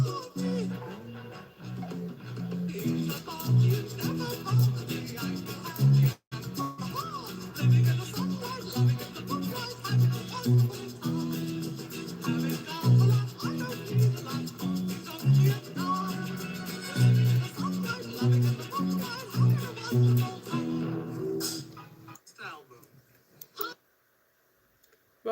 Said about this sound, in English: He's playing the bass.